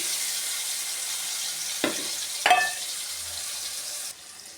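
Spices fry in hot oil for a vegetarian potato curry, a constant close sizzle broken by two sharper bursts as more goes into the pan, then the hiss softens near the end.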